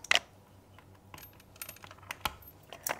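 Mechanical keyboard fitted with LeoBog key switches, crisp separate keystrokes with sharp clacks and a few louder hits, close and alone in a quiet room.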